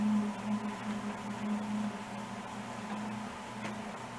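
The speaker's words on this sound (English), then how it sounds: "So you might hear a funny whirring sound in there. It's just a spring and a washer making a little noise." A fan motor running at a low setting, its steady whir carrying a faint warbling tone from a loose spring and washer rubbing inside, close and continuous with no talk.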